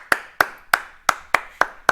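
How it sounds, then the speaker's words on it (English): Close, bare hands clap seven times in a quick, even rhythm, each clap sharp with a short decay, in a workshop where a truck is being built. "Clap your hands."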